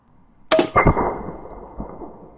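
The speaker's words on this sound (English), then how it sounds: "Nice explosion." A shot cup packed with snap bang pellets explodes outdoors from about 40 feet away: a sharp crack followed quickly by a second pop, then a rolling decay with a faint later thump.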